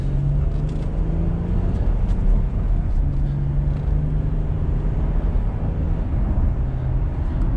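A 2017 Ford F150 pickup truck drives along with a steady, loud engine and road drone from inside the cab, its engine note rising slightly under acceleration while low tonal hums hold and shift.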